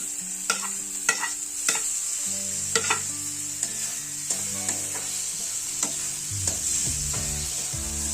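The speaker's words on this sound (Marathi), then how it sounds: "व्यवस्थित परतून घ्यायचं, थोडं एकजीव करायचं." Tomato sautéing in a pan for Malvani prawn curry, a steady sizzle running throughout with repeated sharp scrapes and knocks of a spoon stirring, close and fairly loud, no talking.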